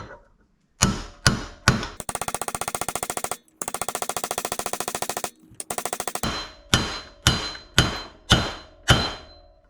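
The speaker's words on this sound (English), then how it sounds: "And a few hammer taps." Close metallic hammer taps seating a bearing on a CRF150R frame: a few single strikes, then fast rattling runs of blows, then a series of evenly spaced ringing taps.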